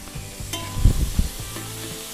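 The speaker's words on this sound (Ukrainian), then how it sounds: "Підсмажуємо до золотистого кольору, потім додамо морку." Food, likely onion, sizzles and crackles steadily in a hot pan, with a few soft stirring scrapes and knocks in the middle.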